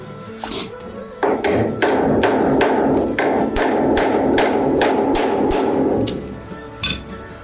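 Repeated hammer blows strike the metal rocker panel of a 1957 Chevrolet in a steady, quick rhythm, loud and close, with a sustained rough grinding noise running underneath for several seconds.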